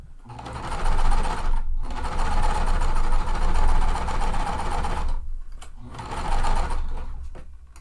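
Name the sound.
sewing machine stitching a quilt seam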